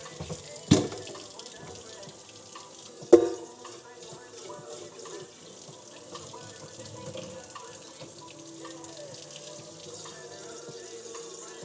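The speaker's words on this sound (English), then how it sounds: "Just gonna put a little water in my tea kettle." Tap water runs from a faucet into a stovetop tea kettle, a soft steady trickle at moderate distance with a couple of sharp knocks near the start.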